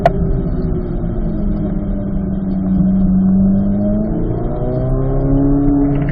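A race car accelerates out of a chicane with a loud, steady engine drone whose pitch climbs as the revs build, sustained and close throughout with no talk.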